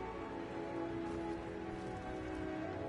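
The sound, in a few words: heavy rain in the video game Skyrim Special Edition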